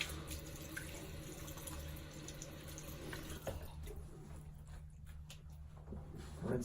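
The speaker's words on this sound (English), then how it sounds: "Rinse that alum off." Water runs from a tap into a sink as alum is rinsed off a face after a shave, a quiet, steady splashing flow that thins toward the end, with no voices.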